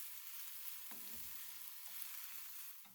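Spiralized vegetable noodles fry in a pan with a steady, close sizzle, while a few scraping stirs sound as the noodles are turned, and nobody talks.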